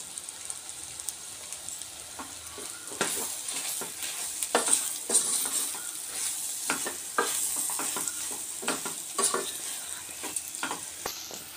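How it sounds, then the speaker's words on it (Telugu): Bitter gourd pieces stirred into a spiced curry in a pan, a continuous sizzle with frequent scraping and knocking strokes of the spoon, close and without talk. "ఈ కాకరకాయ ముక్కలన్నీ ఇందులో వేసేసుకోవాలి. వేసేసుకుని ఒకసారి బాగా కలుపుకోవాలి."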